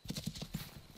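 Footsteps of a character approaching in the hunting game theHunter, on the Timbergold Trails map: a quick run of soft thudding steps, about six in a second, close by and steady.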